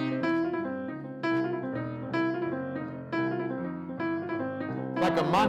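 A jazz piano improvisation in the style of Lennie Tristano turns one short idea around repeatedly like a mantra, with clear repeated phrases at moderate volume and no talk.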